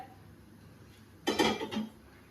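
A large metal cooking pot clanks down onto a gas stove with a short burst of rattling clatter, then quiet returns.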